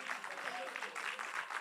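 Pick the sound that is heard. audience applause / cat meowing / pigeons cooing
audience applause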